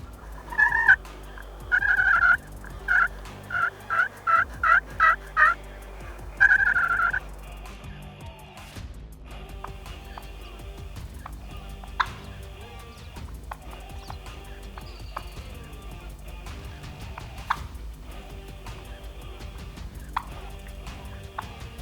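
Wild turkey jakes gobbling outdoors on a hunt, a run of several loud rattling gobbles in quick succession early on, then quieter rustling and faint field sounds.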